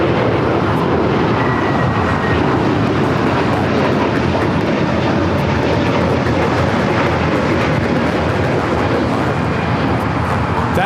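A Spirit Airlines A321neo takes off at LAX with a loud, continuous broadband jet roar that holds steady throughout, close and dominant. No voices are heard over it.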